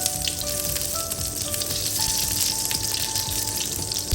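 Butter melts and sizzles in a pan for a Filipino shrimp and saluyot dish, a steady close hiss of frying with a faint tonal hum underneath.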